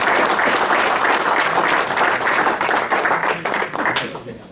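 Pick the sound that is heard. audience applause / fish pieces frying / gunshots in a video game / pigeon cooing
audience applause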